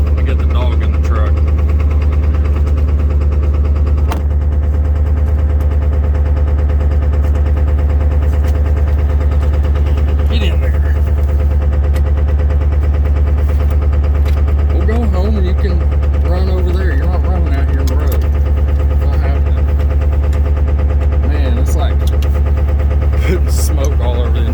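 A cold Ford 7.3 diesel engine in a truck idles loud and close with a steady, deep rumble and rough knocking throughout, while voices talk faintly over it.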